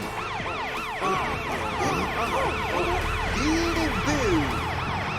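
A loud, continuous ambulance siren wails in rising and falling sweeps, with several overlapping siren tones layered together close by.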